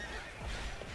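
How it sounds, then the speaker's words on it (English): A horse in the video game Hyrule Warriors lets out a short whinny, a brief, fairly soft neigh lasting under a second. "Charge, horse."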